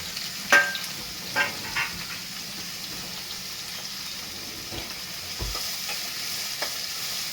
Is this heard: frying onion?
yes